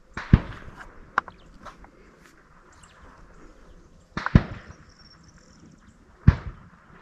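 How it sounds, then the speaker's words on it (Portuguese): Distant hunting rifle shots crack out at irregular intervals during a driven hunt, three sharper reports standing out over faint outdoor ambience with no talking. "Mais outro tiro."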